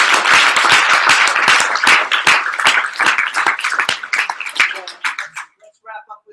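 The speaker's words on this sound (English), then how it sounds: "Can we give a round of applause for others?" Loud, dense audience applause with rapid overlapping claps fills the room, then thins out and trails off into a few scattered claps at the end.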